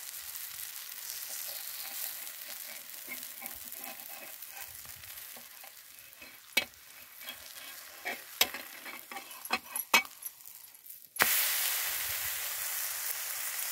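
Barnyard millet dhirde fry in oil on a hot pan with a steady, close sizzle. A spatula scrapes and taps sharply a few times, followed by a brighter burst of frying.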